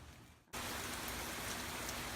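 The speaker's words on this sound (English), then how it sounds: "the rain's really started to pick up" Heavy rain from Hurricane Irma in Dunedin, Florida, starts abruptly after a brief quieter moment, then pours as a loud, steady, dense hiss with no voices.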